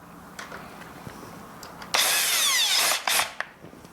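A cordless drill whirs for about a second driving a thread-cutting screw while fitting a conical timer and knob, with a short second burst after, amid light handling noises.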